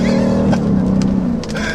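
A Mercedes SLK 55 AMG engine drones steadily under load while driving, holding a low, even tone with a brief shift partway through, loud and close inside the car.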